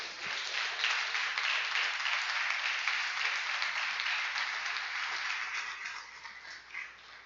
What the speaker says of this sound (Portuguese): para que você aplauda o nome santo de Jesus